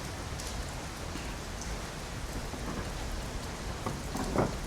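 Soft, steady rain patters down without a break over a charcoal grill barbecue outdoors, with a few slightly sharper drops near the end.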